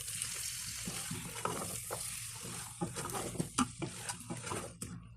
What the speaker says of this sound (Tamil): மட்டன் ஒரு ப்ரௌன் கலர் ஆகிற வரைக்கும் நல்லா ஃப்ரை பண்ணிக்கலாம்.